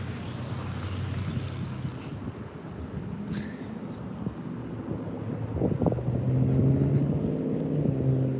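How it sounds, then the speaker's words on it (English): A loud truck rumbles in the background on a windy street, its low engine drone building and growing louder toward the end, with steady wind buffeting throughout and no talking. "And a loud truck behind me at the same time."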